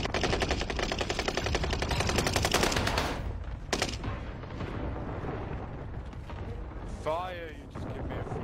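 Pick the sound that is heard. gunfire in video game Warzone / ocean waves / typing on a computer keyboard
gunfire in video game Warzone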